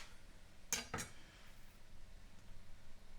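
A knife and cutlery are handled in a home kitchen while steak is prepared, giving two quick faint metallic clinks close together against a quiet background.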